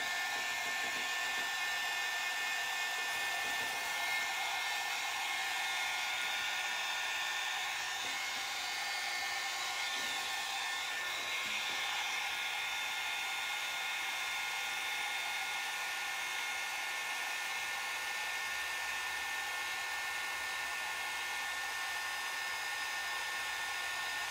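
A hair dryer blows steadily on a sled transfer, a constant whirring hiss that runs unbroken for the whole stretch with no talk.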